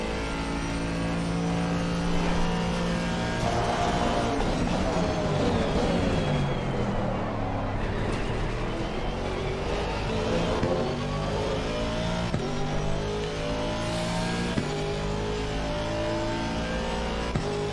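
A race car engine in a racing game screams through a full lap, revving up and down steadily through gear changes, loud and constant from start to finish with no talk.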